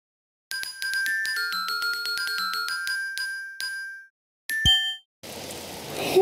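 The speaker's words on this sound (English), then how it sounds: "Oh, it's raining outside." Bright chiming tones and a sharp knock, followed by a sudden steady hiss of rain for about a second.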